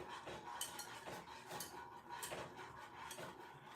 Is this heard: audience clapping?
no